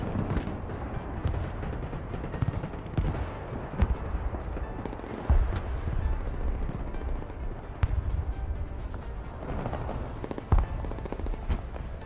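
MLRS rocket artillery fires in the video game Broken Arrow, with a dense rumbling barrage and a few sharper launch cracks and booms over a continuous low roar, loud and sustained.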